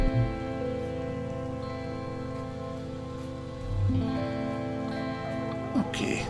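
Rain falls steadily in the video game I Was a Teenage Exocolonist, an even patter over a layered musical soundtrack, continuous and close throughout, with a slight swell partway through.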